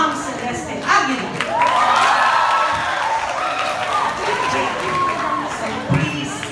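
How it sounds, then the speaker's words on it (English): A school audience applauds and cheers for a ninth-grade class and its advisor, loud dense clapping mixed with high excited shouts and whoops from the crowd, continuing steadily for several seconds. "Let's give a big round of applause to our faculty and the advisor of 9 Magnesium, Ma'am Celeste Aguilar."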